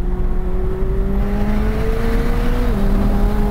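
A McLaren 765LT Spider engine pulls hard at full throttle in third gear, a loud, close, rising drone that climbs steadily in pitch with a brief shift-like dip near the end.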